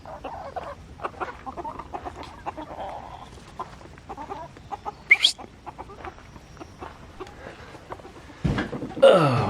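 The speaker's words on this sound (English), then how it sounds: "A few more chickens." Chickens, including silkies, cluck softly in a farmyard coop alongside turkeys, scattered short clucks and calls at close range, ending with louder rustling noise.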